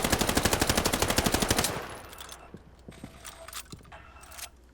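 Sten submachine gun in Warzone Pacific firing a loud, rapid sustained burst for under two seconds, then stopping, followed by scattered quieter clicks and handling noises.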